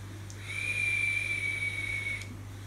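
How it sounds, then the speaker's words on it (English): A vape device gives a thin, steady high-pitched whistle during inhalation for under two seconds over a low background hum, starting and stopping cleanly. "if you can hear that noise, that's because I'm vaping"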